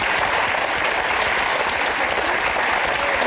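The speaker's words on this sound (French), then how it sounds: "On lui fait des petits applaudissements pour lui alors." A studio audience on a French talk show bursts into loud, dense applause, a continuous roar of many hands clapping that holds steady throughout.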